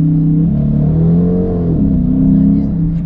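A Dodge Challenger used for Uber rides accelerates hard, its engine note rising and shifting in a loud, close, deep rumbling drone heard from inside the car.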